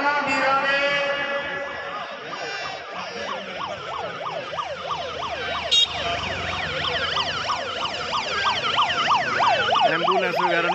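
An ambulance siren wails in fast, repeating up-and-down sweeps during a shutdown protest in Nabha, Punjab, loud and close throughout, with a low vehicle rumble underneath.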